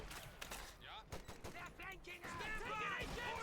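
Browning light machine gun bursts from the US Forces in a Company of Heroes 2 World War II battle, with crackling gunfire and chatter of other weapons layered under a commentator's voice throughout.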